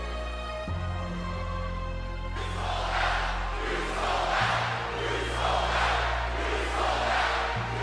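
Wrestling crowd at an MNW Friday Night Flashbang show roars and jeers at a wrestler, a dense, loud swell of voices rising in repeated waves over low arena hum.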